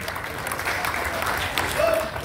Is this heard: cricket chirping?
no